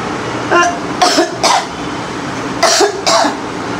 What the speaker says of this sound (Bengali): এই গরমের মধ্যে কেন কাশি হইলো আমি বুঝি না।